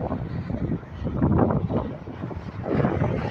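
Strong wind gusting across the microphone outdoors in the San Joaquin Valley in summer, a loud continuous buffeting roar that swells and eases in waves, with no talk.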